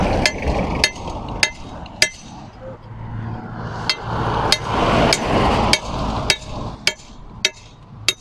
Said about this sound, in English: Bring the hammer.